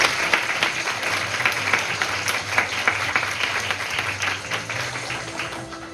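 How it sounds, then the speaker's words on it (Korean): Steady applause from a seated audience greets a guest introduced at the opening ceremony of a student Model United Nations conference in Korea, continuous clapping with faint background murmur throughout. "큰 박수 부탁드립니다."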